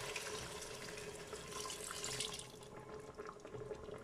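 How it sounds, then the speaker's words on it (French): Broth pours into a Cookeo cooker holding rice, a close, steady splashing trickle that eases off slightly toward the end. "Donc maintenant j'ajoute mon bouillon."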